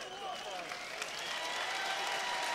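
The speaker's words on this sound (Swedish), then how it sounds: "Och båten har vinkat till publiken och fått tillbaka härliga applåder." Crowd applause fills a boxing arena, steady dense clapping at a moderate distance throughout, with a commentator's voice faintly over it.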